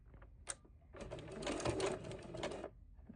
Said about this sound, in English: I'm going to back stitch over it.